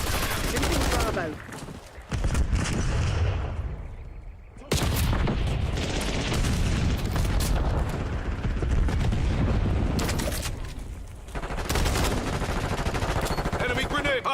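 A video game battle erupts with a grenade blast and heavy bursts of automatic gunfire, loud and dense, broken by brief pauses, while radio-style callouts play over the combat.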